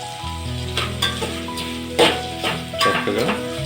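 Chicken frying in a pan for restaurant-style chicken dum biryani, a steady close sizzle with sharper spitting bursts and stirring scrapes, heard alone without talk.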